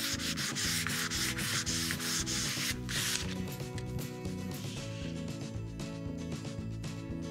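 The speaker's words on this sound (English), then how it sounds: "lightly scuff sanding in the direction of the grain to remove any of the nibs and prepare the surface for finishing" Wood being lightly scuff sanded along the grain to knock down raised nibs before finishing, heard as steady rhythmic rasping strokes, brighter and harder at first, then softer, close and without talk.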